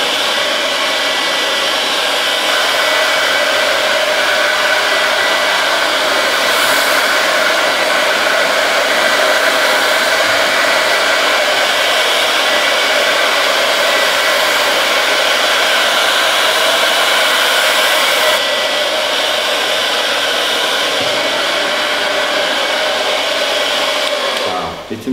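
A handheld hair dryer blows steadily and loudly throughout while styling a man's haircut for volume, a continuous close whooshing airflow with a brief change in pitch midway and a short fade at the end.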